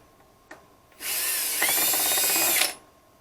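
A power screwdriver drives a screw during a repair on a 40-inch Samsung TV: a faint click, then one close, loud whirring run of about two seconds that stops sharply, with no talk.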